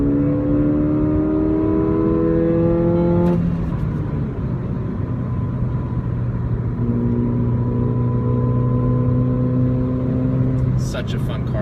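A 2016 Ford Fiesta ST engine revs up through rising gears, a steady loud drone inside the cabin with pitch climbing, shifting, then holding.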